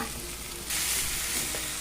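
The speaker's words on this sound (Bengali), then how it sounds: "এইভাবে আমি হাতার সাহায্যে এরমভাবে মেশাচ্ছি" Mashed potatoes stirred into tomato, onion and spices with a ladle, a soft scraping and sizzling texture that brightens and grows louder partway through, no voices.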